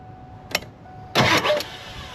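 A car engine turns over briefly under the starter, a short whirring crank after a small click, then stops. It is loud and close, in a garage during an OBS hydro boost swap.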